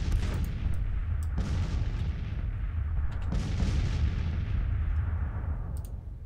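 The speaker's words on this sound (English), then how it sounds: "Got these guns firing" Artillery cannons firing in the Civil War strategy game Grand Tactician, a series of heavy booms with rumbling tails that overlap into a continuous low roar, loud and close, with sharp reports recurring throughout.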